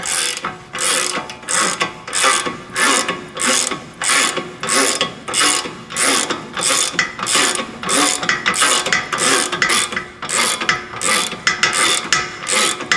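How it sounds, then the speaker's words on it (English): A hand ratchet clicks in steady, rapid back-and-forth strokes while pressing a Honda Civic front wheel bearing into place on the car, loud and close throughout, with no talk. "Take my 1 1/6 on the back side, my ratchet on the front side, and start pulling it in."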